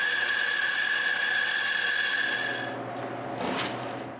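Hand saw cutting a traced angle in wood for a moveable workbench, a steady close rasping stroke with a high ringing tone, then stopping, followed by a brief scrape.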